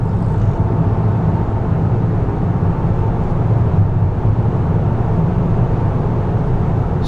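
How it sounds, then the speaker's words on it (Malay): Steady broadband roar of tyres on the road heard from inside a Hyundai Santa Fe moving at highway speed, around 110 to 150 km/h, constant and even with no voices. "Mungkin bunyi yang paling kuat adalah bunyi tayar."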